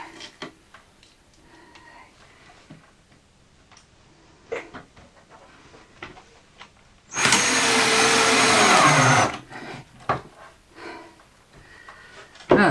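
Screws being driven into a DIY wooden build for a camping gear studio and office: a loud, steady power-driver whir for about two seconds midway, surrounded by quiet clicks and handling knocks.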